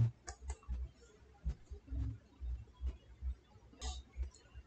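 A computer keyboard clicks under quick typing, a run of light, close keystrokes in an uneven rhythm with a few short pauses, faint against a quiet room.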